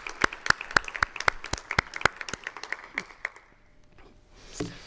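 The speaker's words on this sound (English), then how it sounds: "let's just give a round of applause right now for all of our sponsors" Conference audience applauding its sponsors at a welcome session: sharp, distinct claps start strong in a steady rhythm, then thin out and fade over about three seconds, followed by faint room noise.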